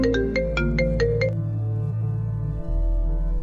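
A telephone rings loudly and close by, a rapid chiming ringtone with repeating tones that then fades into a lingering resonant hum.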